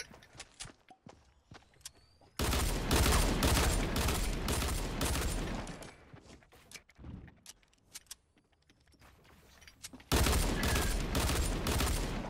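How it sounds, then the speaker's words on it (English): Heavy shotgun blasts from Fortnite gameplay come as dense, loud bursts of gunfire, a long one early and another near the end, with quieter clicks and scattered shots in between and brief excited talk. "My heavy shotgun. Yes!"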